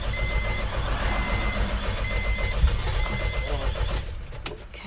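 A car engine cranking after its engine bay was pressure washed, a loud continuous mechanical churn with dense low rumble and steady repeating high tones over it, dropping off near the end.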